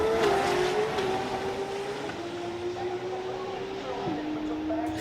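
A 2700 hp Holden Commodore drag race car, the fastest in Australia, roars at sustained high revs with a steady engine tone that dips as the throttle comes off, while people talk over it.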